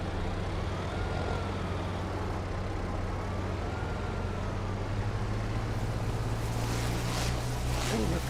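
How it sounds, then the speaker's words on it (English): Steady vehicle engine drone from a farm machine in the Göweil Pack add-on for a farming simulator, a continuous low hum with a slowly wavering tone throughout, alone with no talk. "Oh, that's got a nice little engine sound on it too"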